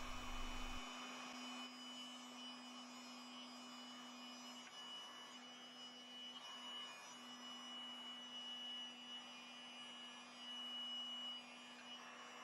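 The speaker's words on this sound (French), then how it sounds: "Ensuite, je chauffe la gaine thermorétractable au décapeur thermique." A heat gun heats heat-shrink tubing on metal extension legs for a square table, making a constant airy blower roar with a steady hum that runs unchanged and close throughout, no voices.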